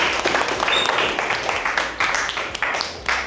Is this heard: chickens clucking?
no